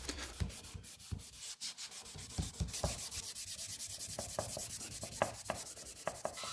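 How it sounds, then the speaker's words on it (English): Sandpaper rubbing along the edges of stained white pine wood, a steady scratchy abrasion broken by sharper strokes throughout, close and fairly loud with no talking. "I sand out the edges, bringing the white pine to bear"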